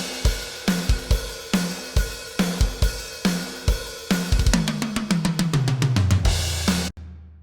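Processed metal drum kit from the Bogren Digital Trivium Drums plugin, punchy looped groove of kick, snare and cymbals that builds into a rapid descending tom fill before cutting to silence, loud and close with no voices.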